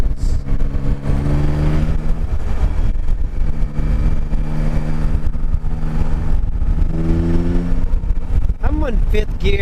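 A Yamaha Tracer sport touring motorcycle pulls hard in fifth gear, its engine a steady loud drone with rising tones, while a rider speaks over it and wind rushes throughout.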